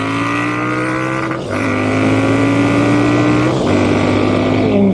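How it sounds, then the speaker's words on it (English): A 1200 Triumph Speed Twin motorcycle fitted with a Zard exhaust pulls hard with a loud, close engine note that climbs in pitch, drops twice at gear changes, then rises again. "It's a wonderful motorcycle."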